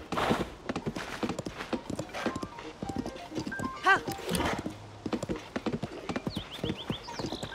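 Rhythmic clip-clopping horse hooves plod steadily in The Legend of Zelda: Tears of the Kingdom, with a brief horse whinny and talking over the top.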